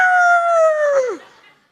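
A rooster crows once, a loud close drawn-out call that holds steady and then drops off sharply at the end, followed by a short fading tail.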